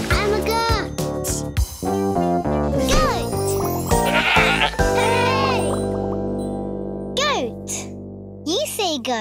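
Repeated wavering goat bleats ring out over a bouncy musical backing, with a voice joining in.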